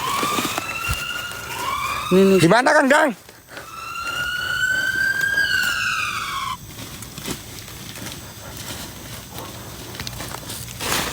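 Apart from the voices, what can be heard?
ambulance siren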